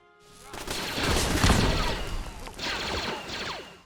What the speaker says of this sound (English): Star Wars DC-15A Blaster Rifle by DMagnus. This weapon has custom sound effects